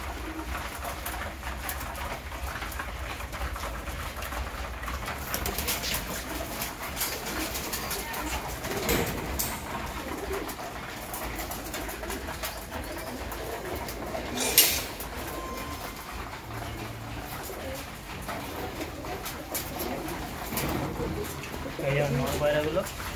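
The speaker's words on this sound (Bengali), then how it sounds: "নর পায়রাগুলো।" Male pigeons in a breeder's loft coo in a low, steady murmur through the whole stretch, with a brief sharper burst midway and faint background rustling.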